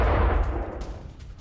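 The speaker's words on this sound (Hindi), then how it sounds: "देखिए किस तरह से 7वां 8वां धमाका, और इसके बाद हर तरफ धुआं उठता दिखाई दिया" Heavy, continuous rumbling blasts from explosions at Russian weapons depots in the Russia–Ukraine war, a loud low boom that rolls on and slowly fades with no talk over it.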